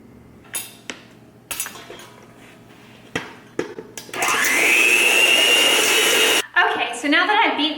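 An electric mixer beats almond milk, almond extract and vanilla extract into creamed butter and sugar for vegan thumbprint cookies. Scattered clinks come first, then a loud, steady, close whir for about two seconds, followed by rattling movement.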